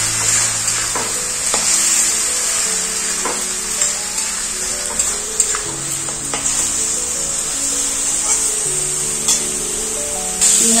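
Grated tomato sizzling with onion in a hot pan, a loud continuous fry with bright hiss and repeated stirring scrapes and knocks of a spoon against the pan throughout.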